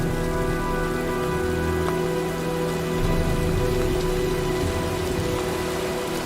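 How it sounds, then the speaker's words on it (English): Steady rainfall in the video game Heavy Rain, a constant hiss of drops on surfaces with a low droning hum beneath, unbroken and even in level, no voices. "Well, looks like a storm's coming."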